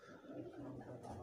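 Breeder pigeons coo softly on a rooftop loft, a low, quiet, rolling coo that carries across the brief moment with a faint rustle at the end.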